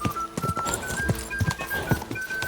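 Horse hooves clip-clop in a steady galloping rhythm in the video game Kingdom Come Deliverance 2, close and fairly loud with faint game ambience around them.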